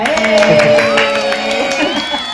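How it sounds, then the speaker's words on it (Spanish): A small podcast audience responds with sustained cheering and whooping voices, with light claps scattered through it, loud and close for a couple of seconds. "un aplauso para él"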